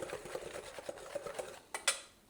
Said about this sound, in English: I'm just going to mix them all together.